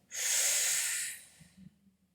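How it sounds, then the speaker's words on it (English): A single strong inhale through the nose, shown as vertical breathing that lifts the shoulders and neck. It is close and hissing, lasts about a second, and fades into quiet with a faint soft sound after it. "vertical breathing happens when we get a little taller and we engage the shoulders and necks on an inhale"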